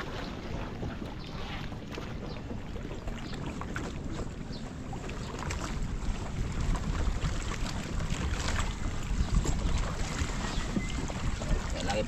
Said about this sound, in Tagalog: At nakaayos na po yung ating bangka. Pwede na po tayong umuwi.